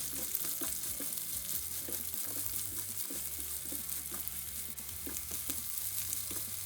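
Onions and green chillies sizzle steadily in a hot pan, a constant crackling fry with occasional stirring scrapes, no voices.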